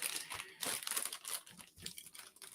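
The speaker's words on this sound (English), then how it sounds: "Plastic bag." A plastic bag crinkles and rustles in bursts close by while a toy figure is unboxed, loud irregular crackling with short pauses.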